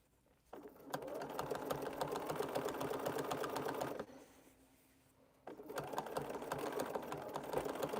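A sewing machine stitches around a fabric coaster that is being shaped into a bowl, in two long, steady whirring runs separated by a short pause, with the motor loud and close.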